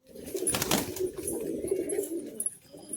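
A pigeon being treated for an eye infection coos softly and steadily in low, repeated tones, with a brief rustle partway through and no talking.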